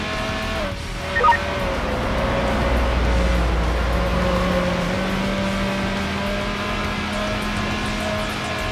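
A yellow Opel Speedster in the racing game Need for Speed Hot Pursuit 2 drives with a steady engine drone and a low hum throughout, holding a fairly even, loud pitch with no talking.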